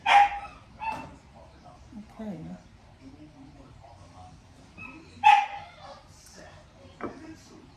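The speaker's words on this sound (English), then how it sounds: "You hear the puppies." Puppies barking and yipping in a home kitchen, with a sharp burst of high yaps at the start and another around five seconds, softer whimpers between, under someone talking nearby.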